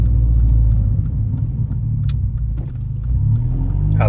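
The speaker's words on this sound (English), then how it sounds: "First gear pull." A Mercedes-AMG CLA 45 engine pulls hard in first gear, heard from inside the cabin as a loud, deep, steady rumble lasting throughout, with no speech.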